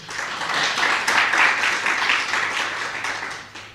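An audience at a live Gujarati folk comedy show breaks into sustained clapping, a dense, even wash of applause filling the whole stretch and fading slightly at the end.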